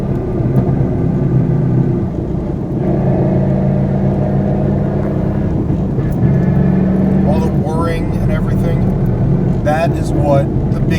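A Ford Mustang S197 with a broken differential drives along with a loud, steady engine drone and low rumble throughout, while someone talks over it.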